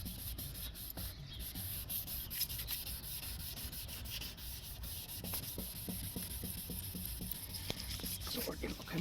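Hand sanding of a car headlight lens with 1200-grit paper, a steady close scratchy rubbing with quick repeated strokes that run throughout, under faint background noise.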